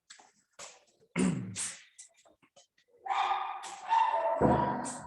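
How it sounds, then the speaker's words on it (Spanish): Dogs barking near a house as someone arrives home, a few sharp barks in separate bursts, then louder overlapping barking and yelps toward the end. "los perros hacen así un escándalo todo para allá"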